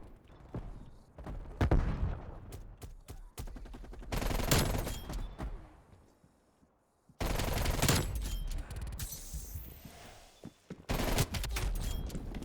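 Shotgun and other gunfire ring out in the Call of Duty: Black Ops Cold War video game as loud, sharp bursts and rapid volleys, broken by brief quieter gaps.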